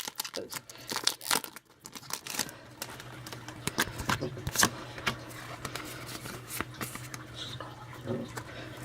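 Foil wrapper of a Pokemon Furious Fists booster pack, from a Kyogre EX tin, is torn and crinkled open close up, a run of sharp rips and crackling crumples at an uneven pace.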